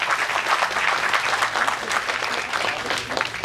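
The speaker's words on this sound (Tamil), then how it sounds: "அவர்களுக்கு நல்ல கைத்தட்டு." Loud, dense applause from the audience at a Tamil film audio launch honouring a national award-winning makeup artist, with sustained clapping from many hands that fills the hall for several seconds.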